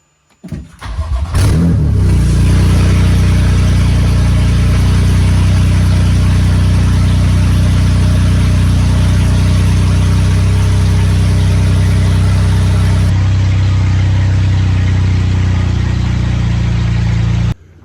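A car engine cranks and starts, then idles loudly with a harsh, unmuffled roar that holds steady for a long stretch before shifting slightly lower.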